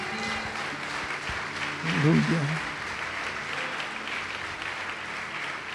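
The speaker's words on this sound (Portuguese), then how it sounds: "Você pode aplaudi-lo nesta noite?" A church congregation applauds at an evening service, steady moderate clapping spread across the room, with a short voiced exclamation rising briefly over it midway.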